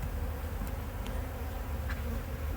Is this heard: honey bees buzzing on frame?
yes